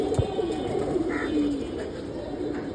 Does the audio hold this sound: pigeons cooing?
yes